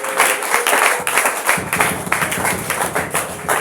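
Congregation at a church thanksgiving service clapping for Jesus: steady, dense crowd applause with sharp individual claps and thumps throughout, loud and close, continuous for a few seconds.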